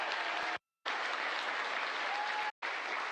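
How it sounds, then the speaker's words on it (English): Loud, dense applause and cheering from a flight control room full of people during Artemis II Orion recovery, broken by two brief silent gaps. "jubilation here in the flight control room"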